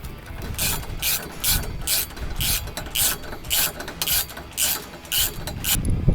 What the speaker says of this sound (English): Take a 13mm ratchet and a 13mm spanner and do those